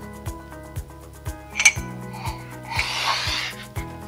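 A metal spoon clinks against a coffee cup in a steady repeating rhythm of light taps, with a brief rubbing, rustling sound partway through.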